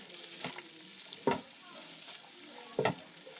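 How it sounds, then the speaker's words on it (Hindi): Sliced onions frying in a pan toward light brown, a continuous soft sizzle broken by a few sharp scraping stirs of a utensil, close up with no voices. "तो जी दोस्तों प्याज की हम बुनाई कर लेंगे।"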